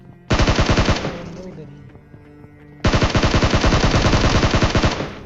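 A DP light machine gun fires in an online shooter video game in two long, loud full-auto bursts of rapid evenly spaced shots, each lasting under a second to about two seconds, with a short lull between them.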